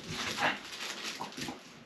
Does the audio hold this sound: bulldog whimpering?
yes